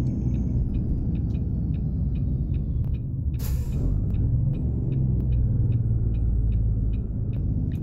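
A heavy truck engine in American Truck Simulator drones steadily throughout, with a brief hiss of air release partway through and faint repeating clicks above the low rumble.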